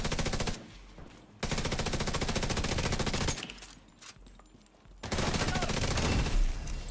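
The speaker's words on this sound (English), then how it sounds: "she shot me on the shield and I didn't take damage" Automatic gunfire bursts from The Division video game with a sniper engaging, dense rapid shots in long loud stretches broken by brief quieter gaps.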